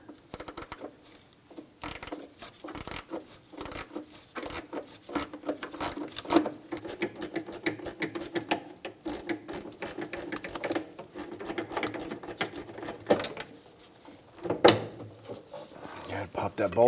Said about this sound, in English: So you can get your gear wrench up and in there.